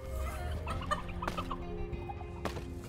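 Chickens clucking repeatedly in the dungeon-management video game Dungeons 4, a steady busy run of clucks over a dense game background of music and ambience, with no talking.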